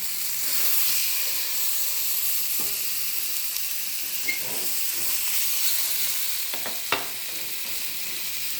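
Food fries in coconut oil with a continuous soft, steady sizzle and hiss. A few faint clinks and stirring scrapes of a utensil come through the sizzle.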